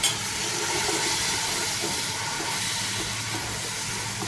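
Water poured into frying masala in a pan sets off a loud, dense, steady hiss of sizzling steam that holds evenly throughout.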